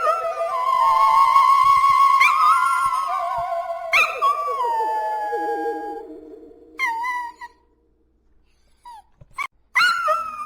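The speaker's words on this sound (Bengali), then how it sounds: "কুকুরগুলো যেভাবে ডাকছে" Dogs howling at night in an animated story: loud, drawn-out wavering howls close by, one after another, then shorter yips and whimpers separated by brief silences.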